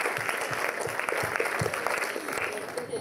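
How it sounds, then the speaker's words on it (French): An audience at a festival opening gala in Liège claps in a dense, steady round of applause with a faint murmur of voices. "On peut les applaudir à nouveau."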